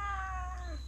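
A cat crying after coming home, a single close, drawn-out meow with a falling pitch over a low background hum.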